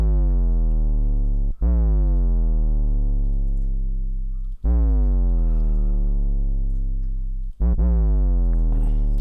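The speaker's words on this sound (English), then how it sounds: "Let's go to the last patch, which is this bass sub." A DRC synthesizer bass sub patch plays three long sustained notes, each dropping slightly in pitch with rich, buzzy harmonics; loud and continuous, every note starting sharply right as the previous one cuts off.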